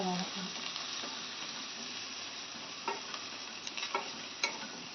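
Curry leaves sauté in a pan with a soft, steady sizzle, joined by a few light scrapes and taps from stirring, faint and close, with no talking.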